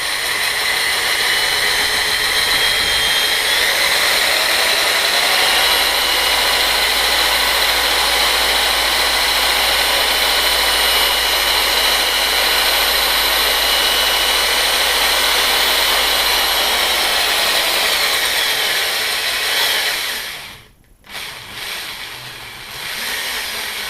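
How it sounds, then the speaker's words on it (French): Electric drill driving a wire winder to spool cable, a loud steady whir holding for about twenty seconds before cutting out, with a brief gap and then a quieter restart at the end. "maintenant que j'ai la perceuse, je la mets en place sur le bobineur"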